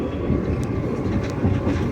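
The SIR1 tram in Padova rumbles steadily along its line, a continuous loud, close rolling drone with faint rail clatter throughout.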